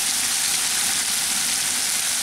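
Spice masala with turmeric powder and salt being fried in a pan for a Bengali dish, a steady, dense sizzle that holds evenly throughout with no talking.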